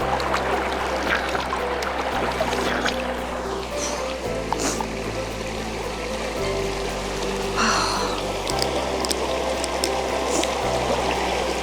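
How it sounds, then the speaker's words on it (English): Steady running water splashes without a break as someone washes their face, a continuous broadband wash with a low hum underneath and no voices. "So after that I will then just kind of wash my face."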